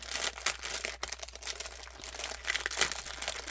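Plastic packaging bag being handled and torn open for a craft haul, with close crinkling and crunching rustles in irregular bursts, fairly quiet, with no talking.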